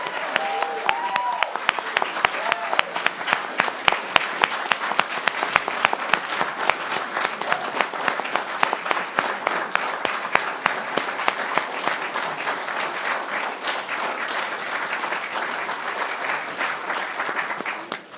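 Sustained audience applause fills a board of education meeting room, dense and steady clapping from many people throughout, with a faint voice briefly audible near the start.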